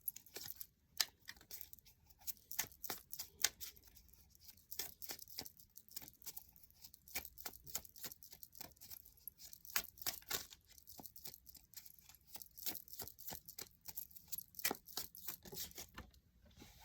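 A Shadowscapes Tarot deck is shuffled by hand, a faint, close, rapid patter of soft card flicks and riffles running continuously, with no voices.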